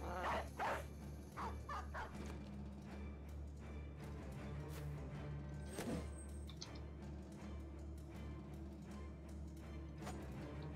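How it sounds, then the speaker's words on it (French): Dogs bark in an online multiplayer game, several short yips and barks, loudest near the start, set against steady game background noise. "On va lâcher les chiens du coup."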